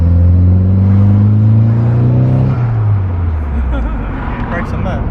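A Nissan Silvia-style car engine revs loudly up and then drops off, a strong rising drone that falls away into a lower rumble, close to the listener.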